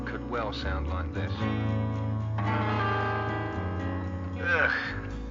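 A guitar strummed with sour, out-of-tune chords, the notes ringing and clashing for several seconds, with a quick second strum near the end.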